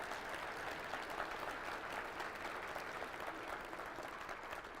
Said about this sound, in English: And so please give them a round of applause.